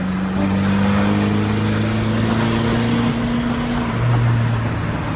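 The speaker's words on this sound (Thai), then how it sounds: "เอาเหยียบให้สุดเลย ขึ้นโคตรช้าเกียร์สามไป" A modified car with a tuned engine box accelerates hard in third gear with the pedal floored, its engine drone rising steadily for several seconds, loud and close, then shifting pitch near the end.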